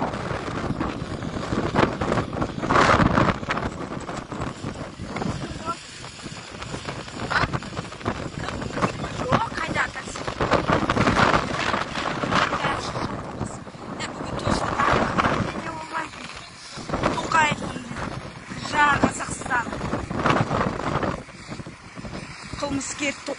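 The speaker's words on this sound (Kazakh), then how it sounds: "Қар жоқ, бірақ су өткір жел." Sharp, cold wind gusts outdoors in Aktau in January, heard as steady, rough microphone buffeting that runs under near continuous nearby talking.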